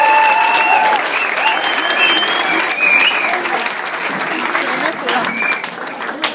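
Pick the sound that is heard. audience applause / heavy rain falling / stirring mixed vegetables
audience applause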